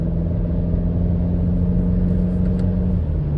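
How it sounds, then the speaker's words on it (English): A BMW X5M engine pulls smoothly under acceleration, a loud, continuous low rumble with a steady droning tone and a slight pitch shift near the end, heard from inside the cabin. "Nice smooth acceleration here."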